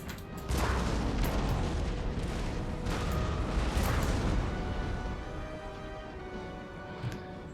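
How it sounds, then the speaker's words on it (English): Artillery fires during a Napoleon: Total War battle, giving dull, rolling booms about every one to two seconds under a steady wash of battlefield noise, with no talk. "And the guns have opened up again."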